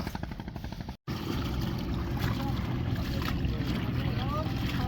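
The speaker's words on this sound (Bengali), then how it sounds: "এটা হচ্ছে আমাদের ট্রলার আমরা এখন টলার উঠবো পিকনা বাজারের উদ্দেশ্যে" A fishing trawler on the Jamuna river gives a steady low engine rumble with rhythmic thumping, mixed with wind and water noise; one brief dropout interrupts it.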